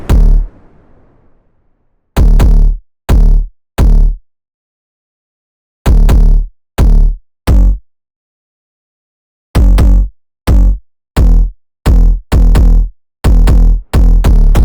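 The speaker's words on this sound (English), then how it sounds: "I just have a bass line pertaining to the bass notes of our guitar sample" A deep, punchy bass line plays short chopped notes in a rhythmic groove, in clusters separated by brief silences, loud and up close with no voices.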